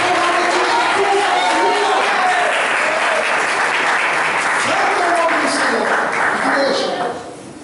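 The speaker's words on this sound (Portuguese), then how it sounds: "dá uma salva de palmas para o Senhor" A church congregation applauds together at a worship service, a dense, loud wash of clapping that holds steady and then fades out at the end, with voices mixed in.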